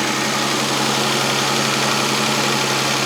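A Renault 25 V6 Turbo engine idles high and steady, a close, constant mechanical hum with a faint vibrating knock and no voices.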